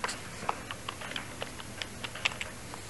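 A computer keyboard being typed on to enter a folder name, Tower: a quick, uneven run of sharp, close key clicks over about three seconds, with no voice.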